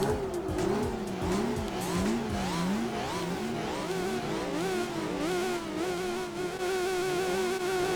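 Race car in Gran Turismo 4 with a whining engine that rises and falls as the wheels spin, tires squealing underneath, a steady continuous roar without talking.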